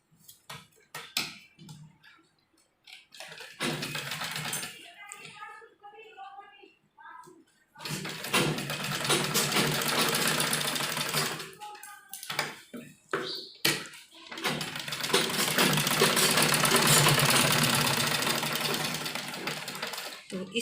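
A domestic sewing machine stitches the shoulder seam of a girl's umbrella frock in long steady whirring runs broken by short pauses and handling clatter, with someone talking quietly in between.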